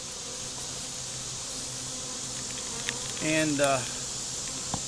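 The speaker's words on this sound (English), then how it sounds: "There's a lot of bees on all the frames." Honey bees buzz steadily and closely over the frames of an inspected hive after a split, a continuous drone throughout with a brief spoken word partway through.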